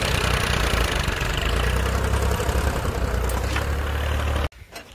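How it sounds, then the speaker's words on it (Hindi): A tractor engine runs steadily while ploughing a field in an Indian village, a loud, close, continuous rumbling drone that cuts off abruptly near the end. "देखिए भैया किस तरह से ट्रैक्टर चला रहा है, खेत की जुताई में कर रहा है"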